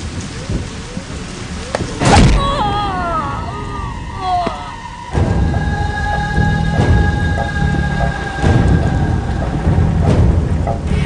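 Heavy rain pours steadily while sharp thunderclaps crack loudly at two points, on a road blocked by a tree brought down in the storm.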